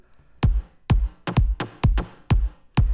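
Punchy percussive transient bass layer for a future house drop, seven sharp thumping hits in a steady uneven rhythm, each with a quick snap and short low decay, no voices.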